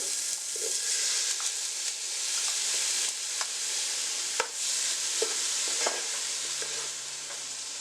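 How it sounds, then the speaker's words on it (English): Steady sizzling of shrimp tossed into a hot pan with frying garlic, a continuous bright hiss broken by occasional stirring clicks and scrapes, close and fairly loud with no talking. "Once the garlic begins to smell, I'm going to add the shrimp."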